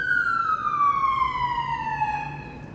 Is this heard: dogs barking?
no